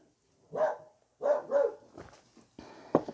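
Female dogs in a house give a few barks: two or three fairly close, moderately loud woofs, then scattered softer yips and a final bark after a pause, with no talking over them.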